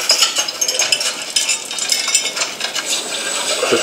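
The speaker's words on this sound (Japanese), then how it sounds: "ちょっと鍋かき混ぜる。" A spoon stirs a pot of boar meat curry, with a steady run of scraping, clinking and soft sloshing, close and continuous, without talk.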